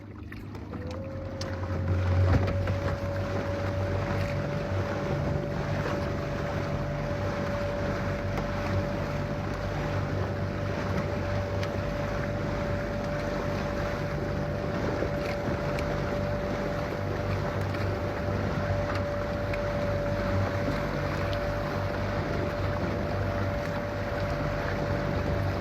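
Small dinghy under way on open water with its outboard motor cranked up, a steady engine drone running throughout alongside constant wind and water rush, no talking.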